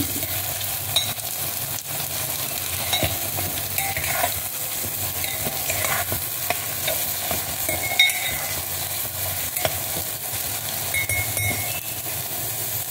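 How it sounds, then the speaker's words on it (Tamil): Beans, carrots and green chillies sautéing together in a pan for vegetable rice upma give off a loud, steady sizzle throughout, with scraping stir strokes and an occasional light clink, and no voices. "பீன்ஸு, கேரட்டு, பச்சை மிளகாய் எல்லாத்தையும் ஒன்றா போடுறேன்"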